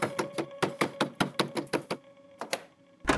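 Someone raps on a house door at night, a quick run of firm knocks in uneven clusters, with a short pause and then a few more knocks, fairly near and without voices.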